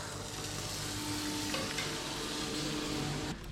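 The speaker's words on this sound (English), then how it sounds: "Frying pan straight to the plate." Food sizzles and crackles in a frying pan, a steady close hiss with faint stirring scrapes, alone and unbroken until it drops slightly at the very end.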